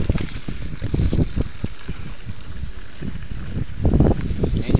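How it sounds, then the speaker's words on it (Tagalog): Strong ocean waves rush and churn close by, a rough, continuous wash mixed with heavy wind buffeting on the microphone, with bursts of louder surging. "Ayan yung wave, ang lakas."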